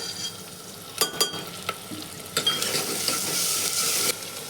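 Onions frying over medium heat in a pan for a capsicum sabzi, a steady close sizzle with several sharp scraping stir strokes and utensil clicks.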